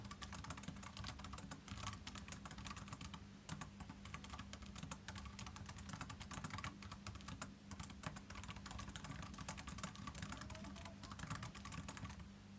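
Rapid typing on a computer keyboard, a continuous patter of key clicks over a low background hum, close and steady.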